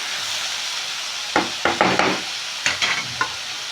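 Tomatoes frying in oil in a pan, a steady soft sizzle under a few sharp scraping clacks of a spoon stirring them, clustered in two short bursts.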